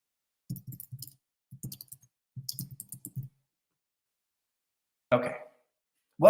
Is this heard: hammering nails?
no